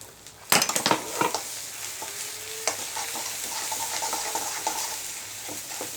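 Dry ground spice masala for a Maharashtrian brinjal dish hits hot oil with a loud burst of sizzling, then settles into a steady close fry with occasional spatula scrapes and clinks.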